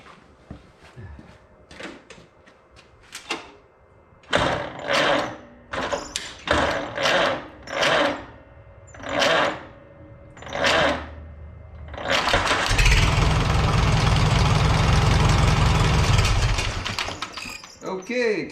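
A Farmall H tractor engine cranks in several rhythmic bursts with pauses between, then catches and runs steadily and loudly at close range.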